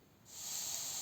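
Curry leaves, green chillies and onion for a masala dosa filling hit hot oil and set off a sudden steady sizzling hiss that stays constant and close after a quiet start.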